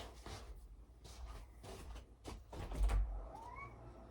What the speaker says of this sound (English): This damn cat.